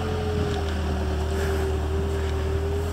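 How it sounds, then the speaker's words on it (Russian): Tractor digging a septic tank pit at a house building site, heard as a steady low engine drone with a sustained tonal hum that runs the whole time, mixed with wind noise and no talk. "А трактор нам... Копает септик."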